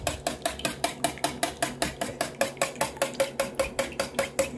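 A utensil briskly beats egg into waffle batter in a bowl, making a steady, fast run of sharp taps and clinks about four per second, close and unaccompanied by speech.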